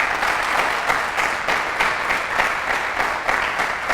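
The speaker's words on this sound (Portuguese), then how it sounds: "Dá um aplauso aí por essa palavra." A church congregation claps loudly and steadily, applause filling the room without pause, close and dense with no voices standing out.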